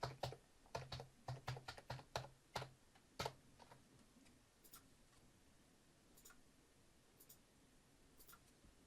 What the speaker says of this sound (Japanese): もうキーボードで一つずつ文字を打っていきます。